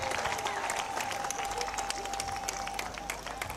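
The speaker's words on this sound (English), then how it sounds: "A round of applause for Benedict, please." A crowd applauds steadily, dense clapping holding at an even level from start to finish, with faint voices mixed underneath.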